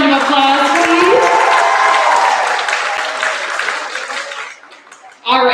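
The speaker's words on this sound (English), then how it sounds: "Can we give them a big round of applause" Audience applause at a choir awards and senior recognition event, a loud burst of many hands clapping mixed with talk and cheering that fades out, then a sudden loud return near the end.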